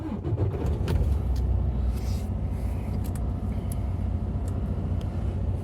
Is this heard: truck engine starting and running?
yes